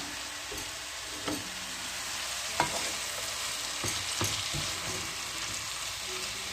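Orzo soup stirred in a pot, a soft bubbling simmer with occasional spoon clinks and scrapes against the pot, heard alone and close.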